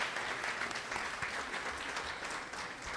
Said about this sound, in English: Nice round of applause for those guys.